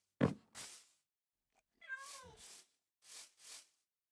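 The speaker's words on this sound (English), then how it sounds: "Hello, little kitty." A Minecraft cat meows several times in short, clear bursts with pauses between them, close and fairly soft against near silence.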